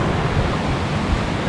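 Git Git waterfall pouring steadily, a dense, continuous rushing roar of falling water at close range with no voices.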